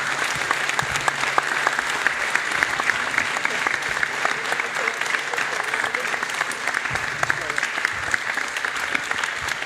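Sustained, loud applause from a conference audience for the panelists at a blog forum, dense crowd clapping rolling on evenly for nearly ten seconds, with faint voices mixed in.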